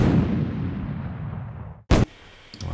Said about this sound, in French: j'ai toujours mis mon son d'explosion derrière, donc pour vous faire écouter.